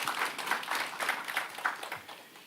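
A church congregation at a Sunday worship service applauds with quiet, steady clapping from many hands, heard from a distance with a soft, even texture. The applause lasts a couple of seconds and fades slightly at the end.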